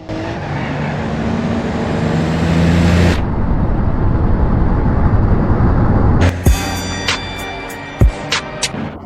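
Lightning McQueen race car driving in BeamNG.drive: a steady, loud engine and tire roar, a sudden drop in the noise midway, then the roar returning with sharp metallic clanks and thuds, with no voices.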